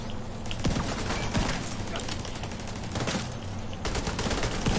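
Rapid video-game gunfire bursts loud and close, dense volleys of shots with brief pauses between them, continuing steadily throughout.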